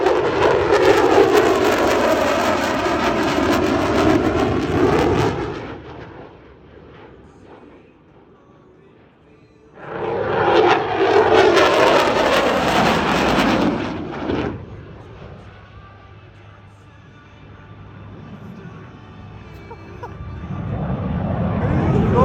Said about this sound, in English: the F-16 Viper demonstration team proudly presents the dedication dance